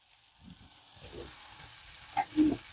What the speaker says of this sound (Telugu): ఉల్లిపాయ చక్కగా వేగింది